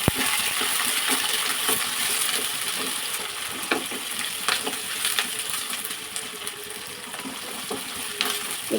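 Onions frying in hot oil with chana dal and green chilies, a constant close sizzle broken by scattered metallic taps and stirring clinks, with no voice over it.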